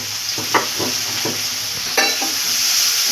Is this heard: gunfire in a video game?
no